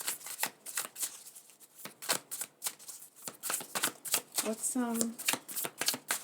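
Tarot card deck being shuffled up close, rapid crisp riffling and slapping bursts in quick irregular succession, with a brief spoken word partway through.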